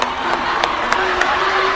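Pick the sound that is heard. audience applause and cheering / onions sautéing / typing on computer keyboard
audience applause and cheering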